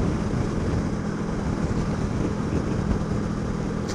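Steady, loud wind roar over a motorcycle helmet while riding at 50 mph, a constant broadband rush with engine drone beneath and no talking.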